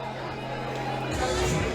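Crowd murmur and chatter fill the stands at a Perth African Nations Cup senior football final between South Sudan and Djibouti, a steady close babble of many voices with brief calls rising through it.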